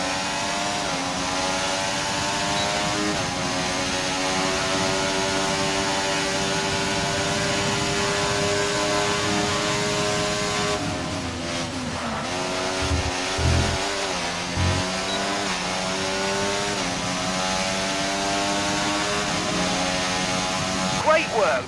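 A Formula 1 car engine screams through a video game race at the Canada Grand Prix, a loud sustained high whine rising and falling with gear changes and a brief dip mid-lap, with a voice talking over it.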